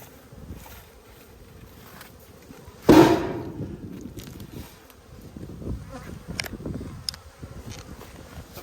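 Honey bees drone steadily around open hives during an inspection in Australia, a constant low buzz with individual bees passing close, plus a loud rustle or knock partway through.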